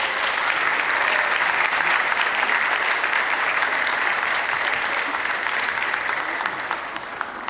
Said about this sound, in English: could you give a round of applause for your parents, friends, families, mentors, and coaches